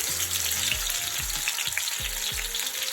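Chopped onions, tomato and sweet pepper sizzle in hot oil over medium heat, a steady loud frying hiss with low clanks and bumps of the vegetables settling in the pan.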